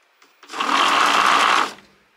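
A DIY hoverboard hub-motor wheel set on a table whirs up under throttle, a loud, steady mechanical whine that holds for about a second before cutting off.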